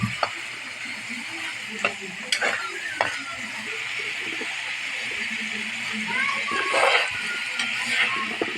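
Chop suey vegetables sizzle in a pan as a home dinner cooks, steady frying hiss with scraping stir clatters, while someone talks over it.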